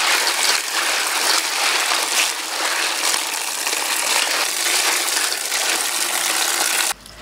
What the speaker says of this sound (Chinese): 你看还在流水